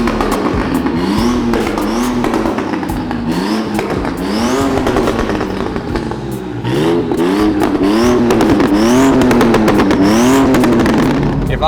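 Modified BMW 135i with a big single turbo and DCT conversion, exhaust routed out through a cut bonnet, revving loudly in repeated rising and falling pulls with sharp pops between bursts, close and dominant throughout.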